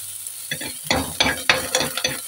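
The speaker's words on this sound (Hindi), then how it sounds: "प्याज भून गए हैं" Onions frying in a pan, with bursts of crackle and spatula scraping in an uneven rhythm, close and fairly loud, with no talking.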